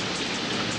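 Steady rain falls across Ngorongoro Crater in Africa, a dense, even hiss of drops with no gaps, continuous and fairly close, with no voices.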